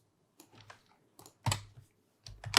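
Computer keyboard typing, a few scattered clusters of close clicking keystrokes with short pauses between bursts, quiet and alone.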